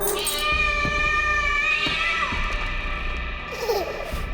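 A cat in the game Layers of Fear lets out a long, drawn-out meow, close and loud over a steady ambient hum, ending in a softer trailing cry.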